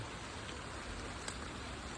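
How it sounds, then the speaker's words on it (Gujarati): Steady, even hiss of rain falling, soft and constant throughout, with no voices. "વરસાદે ચાલુ છે"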